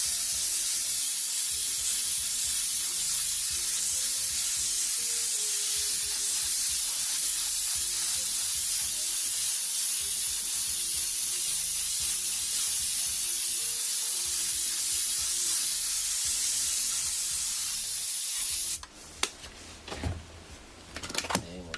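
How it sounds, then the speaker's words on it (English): An airbrush sprays paint over masking from a few inches away, a steady continuous hiss lasting nearly twenty seconds before it cuts off into brief handling clatter. "We'll spray this spray maybe about 4 or 5 inches away."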